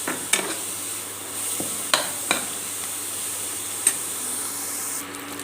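Coriander leaves sautéing in oil for coriander rice, a steady soft sizzle close by with a few light scrapes of the ladle against the pan.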